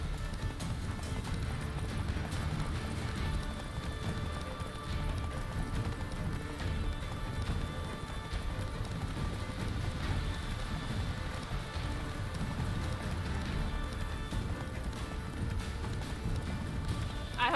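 Roach, Geralt's horse in The Witcher 3, gallops with continuous rapid clip-clopping hoofbeats, a steady, even rhythm under a faint rain-like hiss for the whole stretch.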